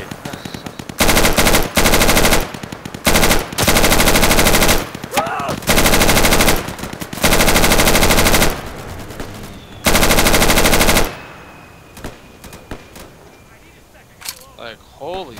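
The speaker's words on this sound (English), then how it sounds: "Suppressing fire, dude. That's what it's all about." Loud, long bursts of machine gun fire from the shooter game Insurgency rattle again and again with short gaps between, then stop, leaving quieter sounds and voices talking near the end.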